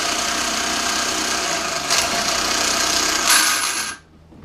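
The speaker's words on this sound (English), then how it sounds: "And then you spin up the alternator using a trusty electric spanner, as I call it." An electric spanner whirs steadily while spinning an alternator on a bench, with two brief louder surges before the motor cuts off abruptly near the end.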